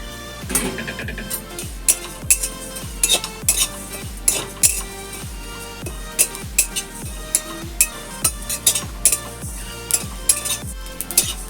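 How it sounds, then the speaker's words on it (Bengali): Cumin seeds are dry-roasted in a pan, with a spatula scraping and knocking against the metal in a steady rhythm of roughly two strokes per second, close and clear. "1 চামচ জিরা, এই জিরেটাকে আমি একটু শুকনো খোলায় ভেজে নেব।"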